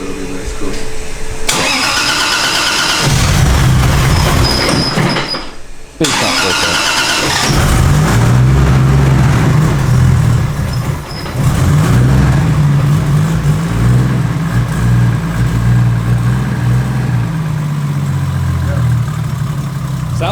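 A Nissan 300ZX engine cranks and catches, cuts out, then starts again and settles into a loud, slightly uneven idle with small rises in revs, close up, as people talk briefly.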